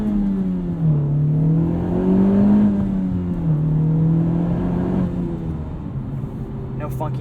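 A 2021 Honda Civic Type R Limited Edition with a six-speed manual, its engine humming steadily while driving, pitch rising and falling gently through revs, with a voice speaking over it inside the cabin.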